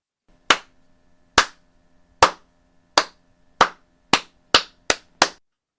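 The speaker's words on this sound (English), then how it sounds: "that deserves a slow clap" Eight single handclaps spaced roughly a second apart, each sharp and isolated, delivered in a deliberate slow clap with silence between them and no talking.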